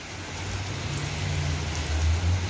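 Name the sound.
heavy rain in Kuwait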